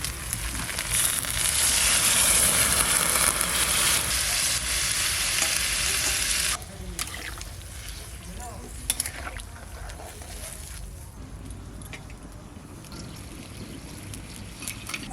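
Hot water poured into a pan of seared duck curry meat, a loud rushing sizzle for the first six seconds, then dropping to a quieter bubbling simmer with a few clinks.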